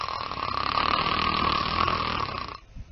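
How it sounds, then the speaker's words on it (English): A steady, loud snore with a rattling, buzzing tone that holds for a few seconds, then cuts off abruptly. "the frequency of the upper airway vibration increases along with the loudness of the snoring"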